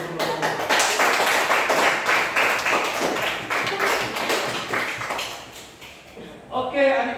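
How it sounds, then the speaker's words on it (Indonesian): A group of students receives applause, a room full of clapping hands sustained for several seconds before tapering off, with a voice speaking at the end. "kita beri aplaus untuk kelompok"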